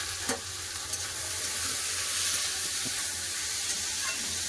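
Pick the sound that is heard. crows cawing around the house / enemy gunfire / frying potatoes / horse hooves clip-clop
frying potatoes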